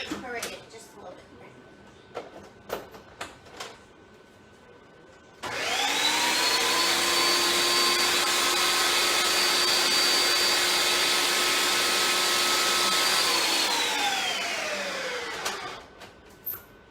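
A blender purees a chorizo and avocado oil mixture for keto nachos, starting abruptly after some kitchen clatter, then whirring loudly and steadily for about eight seconds before winding down.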